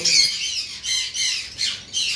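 A pair of V-pine lovebirds squawk in a run of five shrill, closely spaced calls, loud and near, with no other sound around them.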